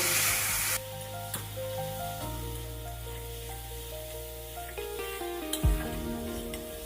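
Turmeric, red chili powder and green chili paste sizzle and fry steadily in hot oil while being stirred, a soft continuous crackle under a faint background melody.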